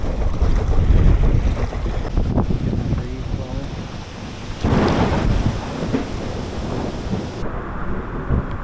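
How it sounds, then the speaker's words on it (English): Rain begins near a hidden 65 ft waterfall, a broad steady hiss with a low rumble and gusty wind buffeting the microphone, a louder swell near the middle, no talk. "I think we gotta get going because it's starting to rain."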